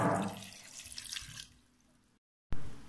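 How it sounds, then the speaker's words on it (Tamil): Water poured into a cooking pot before boiling macaroni, a close splashing, gurgling pour that fades, pauses in silence, then briefly resumes. "வேகிறதுக்கு அளவான தண்ணி,"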